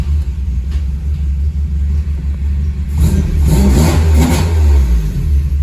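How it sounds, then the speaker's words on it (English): Honda Civic Si EP3 with a K20A3 engine on individual throttle bodies, a close, deep idle rumble that swells into louder revving toward the end. "so we're going to go ahead and fire it up."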